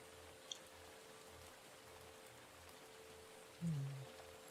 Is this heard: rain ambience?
yes